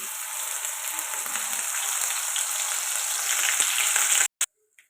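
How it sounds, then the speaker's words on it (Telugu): Onion masala paste hitting hot oil, a loud continuous close sizzle and spatter that holds steady before cutting off abruptly near the end. "ముందుగా మనం మిక్సీ పట్టుకున్న ఈ మసాలా పేస్ట్ వేసిద్దాం ఉల్లిపాయ పేస్ట్"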